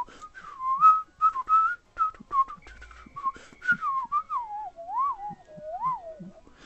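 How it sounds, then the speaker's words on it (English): A person whistles a wandering melodic tune solo, clear and close, with short phrases and sliding pitch bends that gradually drift lower. "Alright, I won't whistle that"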